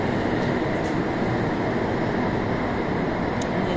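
Steady loud rumble and roar of a long metro subway train riding, heard from inside the car, continuous rail noise with faint higher hiss and no talk.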